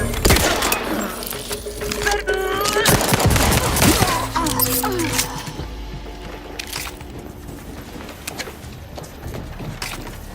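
Rapid bursts of gunfire in a video game, loud and clustered in the first half, with impacts and breaking debris, then thinning to sporadic shots and clicks as game voices come in.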